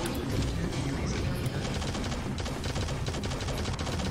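Rapid automatic gunfire in the shooter game Shadowgun Legends, a dense, continuous stream of shots at steady loudness throughout, with no pauses between bursts.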